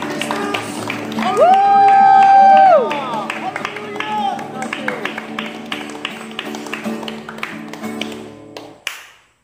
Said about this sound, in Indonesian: Berikan tepuk tangan yang meriah bagi Tuhan kita Yesus Kristus